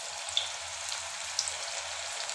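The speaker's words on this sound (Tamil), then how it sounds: "இப்போ நம்ம பக்கோடா எடுத்து கொஞ்சம் கொஞ்சமாக இப்படி கிள்ளின போல் போடலாம்." Onion pakoda batter frying in hot oil, a steady close crackling sizzle with a couple of sharper pops, with no one talking.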